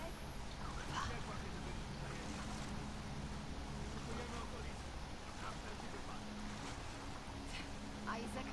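A boat in The Last of Us Part II moves through water with a steady, quiet motor drone and soft sloshing that continue evenly throughout, with faint voices beneath.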